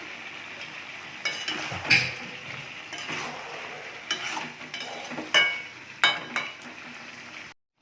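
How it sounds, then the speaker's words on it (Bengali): Chicken sautés with spices in a pan for an Indian curry, a soft sizzle under repeated metal spoon scrapes and stirring clatters in uneven bursts, ending abruptly. "ভালো করে কষে নেব।"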